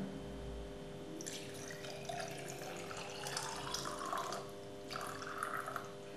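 Tap water poured into a container for boiling, a steady splashing hiss that starts after a moment, swells and briefly pauses before resuming, close and fairly quiet over a faint electrical hum.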